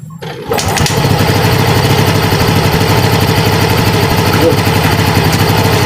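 A Yamaha Mio Gear scooter engine, with its valve clearance being adjusted, cranks and catches, then settles into a steady, close, loud idle with a fast even chug.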